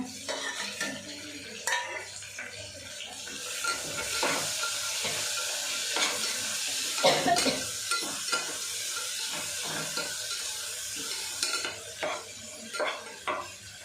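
Spices and onion frying in a pan for tomato bath, stirred with a metal spoon: a steady sizzle broken by frequent scraping and clinking strokes against the pan, close and fairly quiet.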